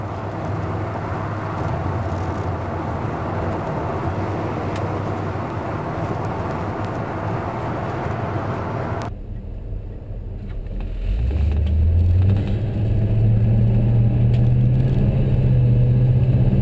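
A 1974 Chevrolet half-ton Fleetside pickup cruises at highway speed, giving a steady loud road and engine roar, then an abrupt shift to a rising low engine drone that settles into a sustained hum.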